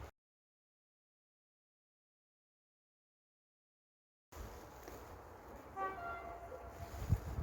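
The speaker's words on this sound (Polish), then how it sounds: "Właśnie nadjeżdża pociąg TLK Staszic, opóźniony około 20 minut." Long silence, then rail noise rises with a short horn blast from a TLK Staszic passenger train some distance away, arriving at snow-covered Bydgoszcz Osowa stop, followed by low rumbling.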